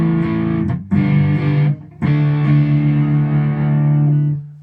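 Electric guitar on the neck pickup played through a Kemper profiling a Marshall Super Lead: thick, warm overdriven chords, two quick strums separated by short gaps, then a long sustained ringing chord that fades near the end.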